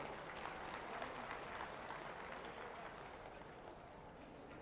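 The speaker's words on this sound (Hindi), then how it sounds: "जोरदार तालियां बजाइए आप लोग" Audience at a large mass wedding ceremony for thousands of couples applauds, a soft, distant wash of many hands clapping continuously with no voices on top.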